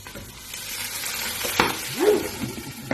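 Garlic and onion sautéing in a pan, a short burst of close sizzling with a spatula knock and a brief squeaky scrape.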